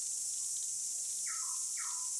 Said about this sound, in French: les bruits des cigales